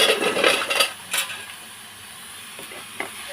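Banana flower curry (mocha ghonto) being stirred in a pan, with soft scraping strokes and a light sizzle in the first second, then quieter occasional clinks and scrapes.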